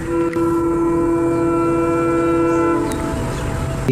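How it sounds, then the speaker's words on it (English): A fast-approaching train blares its horn in one long, loud sustained blast with steady harmonic tones, rumbling track noise underneath, then a brief clatter as the horn cuts off. "the train, fast approaching, starts blaring its horn to warn them to get the heck out of the way"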